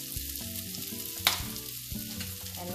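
Vegetables with mayonnaise cooking in a pan for a loaded raja rani paratha, a soft steady sizzle with a few clinks and scrapes from stirring and one sharp tap near the middle.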